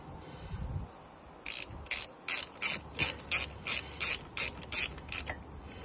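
Ratchet tightening the brake caliper pin on a Sinnis Terrain 125cc motorcycle: about a dozen short, crisp clicking bursts in an even rhythm, close and clear over a quiet background.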